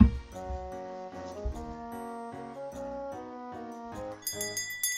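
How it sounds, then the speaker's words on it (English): A soft shop door bell in the farming game Peachleaf Valley rings as a rustic little shop opens, with gentle repeated chimes and tinkling tones over quiet background music, no talking. "The soft bell rings out as I walk into a rustic"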